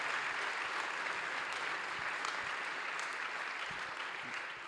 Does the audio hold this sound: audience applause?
yes